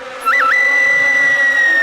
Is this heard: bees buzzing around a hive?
yes